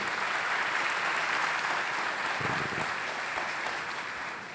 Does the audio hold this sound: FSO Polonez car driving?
no